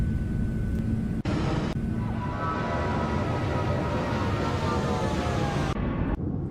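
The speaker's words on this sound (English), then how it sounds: "I wanna hear the General Electric takeoff." A General Electric jet engine spooling up for takeoff on a 737 Max 8 in a flight simulator: a steady, loud broadband roar with a rising whine, cut by brief gaps, with no talk over it.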